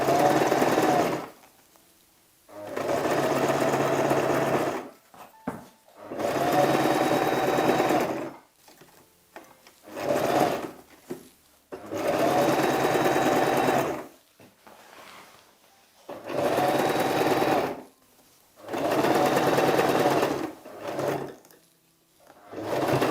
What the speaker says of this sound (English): So sewing with a 1/8 inch allowance, lock, and then just take out the pins as you go along